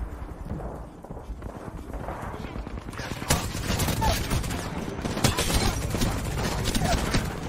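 Bursts of rapid gunfire from a gun in the Apex Legends video game, growing dense and loud after a quieter opening and running continuously amid game noise, with voices in the background.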